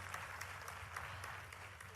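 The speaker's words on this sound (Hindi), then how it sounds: "तो चलिए जोरदार तालियों से स्वागत करते हैं।" Loud, steady applause from a crowd at a state-level government event welcoming the chief minister, continuous clapping without pause and no speech over it.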